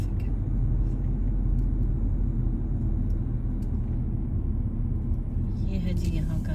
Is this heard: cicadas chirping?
no